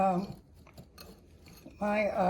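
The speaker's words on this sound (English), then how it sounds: "So I'm going to take and stir this up, mix this together" A salt and pepper seasoning mix for baby back ribs is stirred together, giving a short run of light clinks and scrapes between stretches of talk at the start and end.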